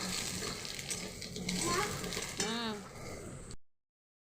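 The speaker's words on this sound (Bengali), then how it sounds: "আলু ভাজছি।" Potatoes frying in oil in a pan during home cooking, a steady broadband sizzle running under a voice, with a brief cut to silence near the end.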